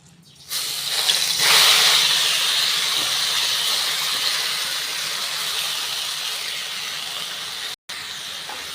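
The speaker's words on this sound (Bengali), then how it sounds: "কড়াইয়ের তেলটা খুব গরম হয়ে গেছে এবার আমি ডালটা ছেড়ে দেবো" Moong dal poured into very hot oil in a kadai, for a mung dal dish cooked with a fish head, erupts into a loud, steady hiss and sizzle that holds for several seconds, with a brief break near the end.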